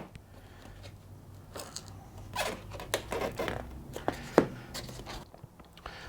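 A blade slowly cutting away sticky sealant from a Ford Mondeo door panel, with close tearing, crackly snips and small clicks in irregular bursts after a quiet start.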